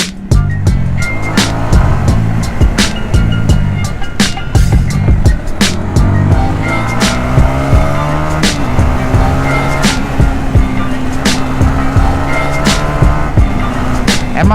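A motorcycle with a standard exhaust runs on a test ride after an engine rebuild, its engine droning loud and close, rising and falling in pitch as it shifts through the revs.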